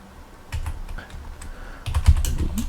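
Keys on a Commodore 64 computer keyboard clack in a short burst of typing, close and moderately loud, with a few scattered taps followed by a quicker run of keystrokes.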